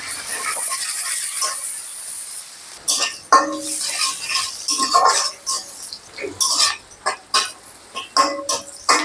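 Onions sizzle in oil with black cumin seeds, a steady hiss at first, then broken up by clinks and scrapes of a metal utensil against the pan.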